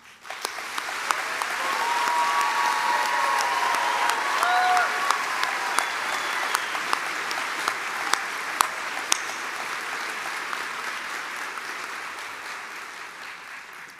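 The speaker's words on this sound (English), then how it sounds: "that deserves a round of applause from us all" A crowd at a graduation ceremony claps steadily, the applause swelling quickly and holding strong before slowly thinning out near the end, with no one speaking.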